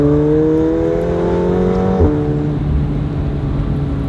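A 2019 McLaren 720S Spider accelerating, its engine note rising steadily and close up, with a brief shift around the middle before the drone continues.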